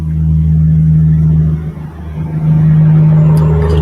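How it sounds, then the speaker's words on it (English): A truck passes with its jake brake engaged, a loud, steady low engine drone that rumbles continuously, dips briefly, then swells again close by. "There's a truck going by with his jake brake."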